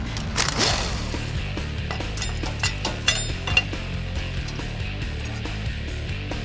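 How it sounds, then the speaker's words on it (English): Mechanical clinks and ratcheting from removing the rear U-bolts on a Toyota Tundra, scattered metallic taps and rattles over a steady low hum, close and moderately loud, with no talk. "removing the rear U-bolts."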